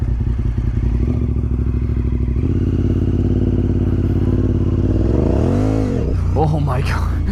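Honda RC51 SP2 motorcycle engine running loud and close, a rough throbbing idle that climbs into a sharp rev and falls back, ending in clattering thumps.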